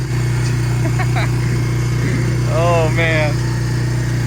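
A worn four-wheeler ATV engine idles with a steady low hum. It needs a carb cleaning, sometimes chokes out, and sits on wobbly tires. A brief exclamation and a few high chirps sit over the engine.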